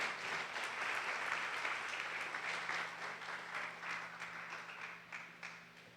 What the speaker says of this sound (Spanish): Dele ese fuerte aplauso al Señor Jesús.